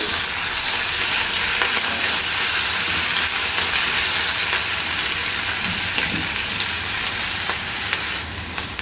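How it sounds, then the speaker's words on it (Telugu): Ginger garlic paste and turmeric frying in hot oil for fried idli: a loud, dense, steady sizzle with a few faint scraping stirs, tapering slightly at the end. "ఈ అల్లం వెల్లుల్లి పచ్చి వాసన పోయే వరకు వేయించుకోవాలి"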